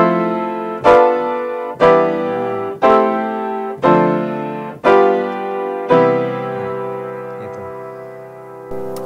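A sequence of six struck major seventh chords beginning on C, each ringing and decaying before the next, evenly paced and played alone with no voice.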